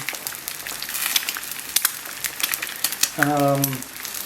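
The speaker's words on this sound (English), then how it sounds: "a little bit of salt, a little bit of pepper, and then we're just going to let this fry a little bit" Food seasoned with salt and pepper fries in a cast iron pan, giving a close, steady sizzle broken by sharp crackles and pops; a short tonal sound rises near the end.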